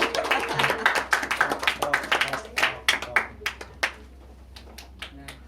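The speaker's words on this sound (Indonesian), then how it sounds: "Bisa diberikan tepuk tangan." Students clapping together in a classroom, a burst of uneven, close claps that thin out into scattered single claps as it dies away.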